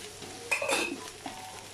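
Coriander and mint leaves frying in a pan while being stirred for a North Indian masala biryani, a brief scrape and sizzle burst in the middle of a quiet stretch, with a faint clink afterward.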